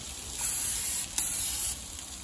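Oil spritzed onto a pork tenderloin already sizzling on a grill gives a steady hiss, with brief louder sprays over the constant sizzle. No talking.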